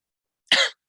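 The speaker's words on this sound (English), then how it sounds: "I'm coughing" One short, sharp cough, close and fairly loud, bursts out of silence and fades within a fraction of a second.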